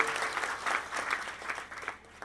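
Steady, even applause from an audience at a Gujarati Santvani bhajan program, many hands clapping and fading slightly at the end.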